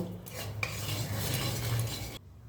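Cashews or nuts and a tablespoon of poppy seeds are dry roasted in a pan and stirred steadily with a spatula, giving a continuous scraping rustle that stops abruptly near the end.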